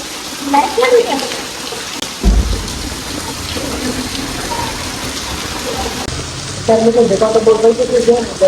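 Heavy rain pours steadily with a low thunder rumble near the start, and muffled voices talk intermittently over it.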